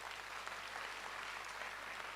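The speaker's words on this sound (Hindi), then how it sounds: "जोरदार तालियां हो दोस्तों वंस अगेन" Steady, dense applause from an audience at a product presentation for a Korean-made alkaline ionized water machine, filling the whole stretch evenly at a faint, distant level.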